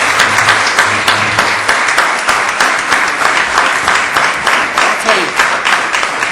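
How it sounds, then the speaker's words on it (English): An audience at a keynote address applauds, a loud, steady burst of many hands clapping close by with a faint rhythmic pulse running through it. "You ought to be applauding Ambassador Siv for that."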